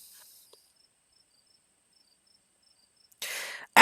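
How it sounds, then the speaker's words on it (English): Crickets chirp at night on a high hill in the Blue Ridge Mountains in the game Scarlet Hollow, a faint, regular high trill pulsing evenly through near silence before a sudden loud burst of noise at the end. "Oh, crickets."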